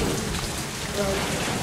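Storm with heavy rain in Metro Last Light, a dense loud wash of rainfall and wind with a low rumbling undertone, steady for its short length.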